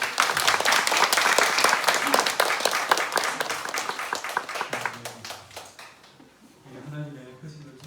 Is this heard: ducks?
no